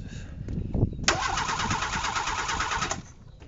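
A wrecked car's engine, its battery wired directly, cranks with a few knocks, catches and settles into a steady close idle before dropping off at the end.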